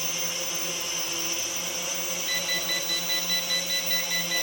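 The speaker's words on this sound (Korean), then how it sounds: "벽에 다가갔는데 삐삐삐 소리와 함께 더 앞으로 가지가 않습니다" Steady electronic obstacle-warning beeps from a Xiaomi KM102 drone near a wall sound over the constant whir of its rotors, the beeps repeating in a quick, even rhythm during the second half.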